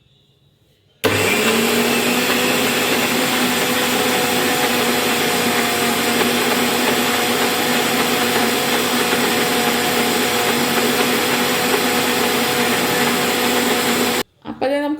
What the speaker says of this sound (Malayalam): അപ്പോൾ ഇനി ഇത് അടിച്ചെടുക്കാം കേട്ടോ